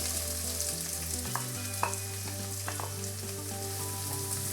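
Chopped onions frying in oil in a pan with cumin and bay leaf, a steady close sizzle with occasional stirring clinks and scrapes throughout.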